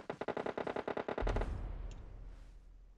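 Rapid automatic gunfire in PUBG Mobile, a burst of about a dozen close, sharp shots in quick rhythm followed by a deep rumbling boom that fades out.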